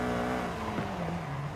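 Tiny bubble car engine in the racing game Forza Horizon 5, a steady buzzing drone that wavers in pitch as the throttle shifts, loud and continuous through the whole stretch with no talking.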